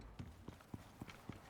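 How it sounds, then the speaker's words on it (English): Steady horse hooves in the video game Icarus clip-clop at an even walking pace, six or so soft hollow knocks, quiet and slightly distant. "There's a horse there."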